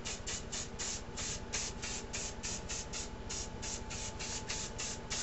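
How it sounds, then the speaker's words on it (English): Short rhythmic bursts of hairspray misted onto a styled hairdo for a light coat, about a dozen quick, even hissing pulses in steady succession, soft and close with no talking. "I'm going to take my hairspray and do a light coat."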